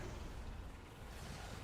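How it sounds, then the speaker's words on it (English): Firework explosion in the video game World of Warcraft, a dense, continuous rumbling burst of broadband noise that holds loud and steady for under two seconds, with no talk over it. "We have a firework way out to the right."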